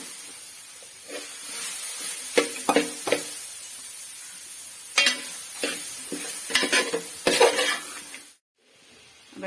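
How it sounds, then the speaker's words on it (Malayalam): Boiled, pounded jackfruit is stirred into a fried mustard-seed seasoning in a pan for ida chakka thoran, giving a hissing sizzle with repeated scraping stirs and clatters, close, then stopping abruptly near the end. "നമുക്ക് ചക്ക വേവിച്ച് ഇടിച്ച് വെച്ചേക്കുന്ന ചക്ക ഇടാം"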